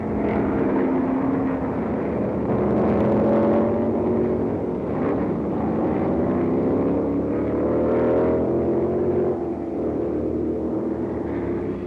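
Chevy-powered McLaren and other 1968 Can-Am race cars at the Stardust Grand Prix in Las Vegas, loud engines droning and rising in pitch as they pass, sustained and close throughout.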